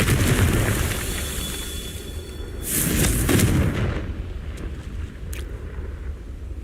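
In Hogwarts Legacy, a Confringo spell bursts into a fiery explosion, one heavy boom followed by a second blast and crackling debris over a low rumble.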